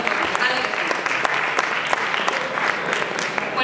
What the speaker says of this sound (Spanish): Así que otro aplauso.